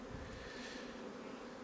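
Honeybees hum in a steady, faint buzz at an open hive during an inspection, a brief stretch with no voices.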